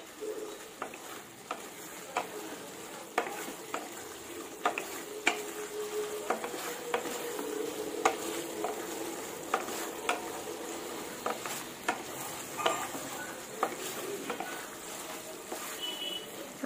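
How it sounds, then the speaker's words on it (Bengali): Spices and potatoes are stir-fried in oil in a kadai for boyal fish jhol, with a low sizzle beneath repeated sharp clinks and scrapes of a spatula against the pan at an uneven rhythm. "এখন আমি মশলা ও আলু ভালো করে কষিয়ে নেব"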